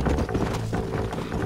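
Horse hooves in Red Dead Redemption clip-clop at a fast, steady gait, loud and close over a dense game background, with no talk.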